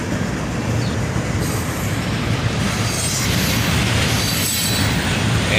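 CSX freight train gondola cars with big lids roll past close by, a loud, continuous rumble of wheels on rails with steady rattling and faint squeal.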